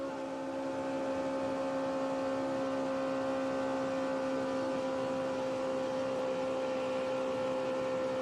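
A steady, sustained engine drone from a Roush Fenway NASCAR truck held at wide-open throttle during practice at Atlanta, heard from a distance as an even, unbroken tone with no talk.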